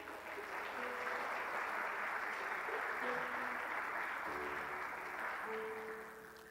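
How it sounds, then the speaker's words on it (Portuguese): A church congregation applauds during a sermon, sustained clapping from a crowd that holds steady for about six seconds before fading. The clapping sits at a moderate distance. "Vamos aplaudir Jesus por isso?"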